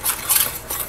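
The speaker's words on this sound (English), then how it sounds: "We're just gonna mix this up." A spoon briefly scrapes and clinks as it stirs a dry seasoning mix of onion powder, paprika and mustard powder in a bowl for oven-fried chicken, a short, close scrape of under a second.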